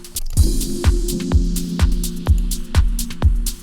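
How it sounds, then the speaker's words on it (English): A music mix with a heavy distortion effect: gritty, saturated tones over a steady thumping beat, about two pulses per second, loud and continuous. "Let's try the distortion type."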